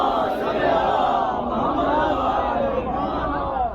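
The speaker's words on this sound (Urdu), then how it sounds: "استقبال میں بلند ترین نعرے سے" A large crowd at a 10 Muharram religious gathering shouts slogans loudly in welcome, a dense, sustained roar of many voices that carries without a break.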